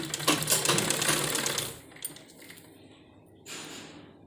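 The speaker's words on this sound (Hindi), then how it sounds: "तो इस तरह से हमें ये दोनों तरफ अपनी सिलाई लगानी है।" A sewing machine stitches lace onto fabric for a decorative step on a garment sleeve, a fast mechanical whirring burst up close that stops, followed by a few faint clicks and a brief second run.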